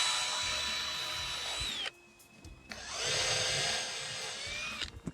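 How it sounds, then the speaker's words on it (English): A handheld power drill drives screws through wooden pieces of a box held in place for a paint spinner build, whirring loud and close in two long bursts separated by a short pause. "I'm going to drill through each piece"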